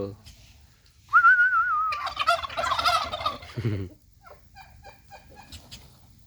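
American Bronze turkeys gobble close by in a loud rattling burst lasting a couple of seconds, followed by quieter scattered calls and clucks as the flock settles.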